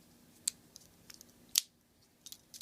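Small spring-loaded scissors on a Gerber Dime multi-tool snipping, with two sharp, distinct cuts and a few faint clicks between them, close up in a quiet room.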